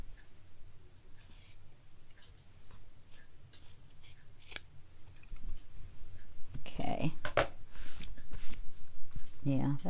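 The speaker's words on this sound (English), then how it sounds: "These scissors are so sharp, it's almost just sliding through the cheesecloth like it would a piece of Christmas wrapping paper." Sharp scissors cutting through cheesecloth, a series of quick crisp snipping and sliding cuts that grow louder and denser toward the end, close to the listener, with faint background sounds between cuts.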